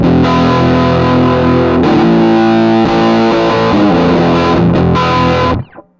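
Distorted electric guitar played through a DigiTech CabDryVR emulating a British green slant cabinet, loud sustained chords ringing for about five seconds before being cut off abruptly.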